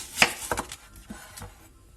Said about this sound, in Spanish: Vamos a trocear un pimiento rojo grande, 2 dientes de ajo y una cebolla